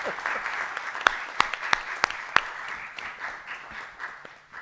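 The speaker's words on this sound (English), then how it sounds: "How about another round of applause?" Audience applause at a three-minute thesis science competition: a crowd claps steadily while a few loud, distinct close claps stand out early, then the sound gradually fades away.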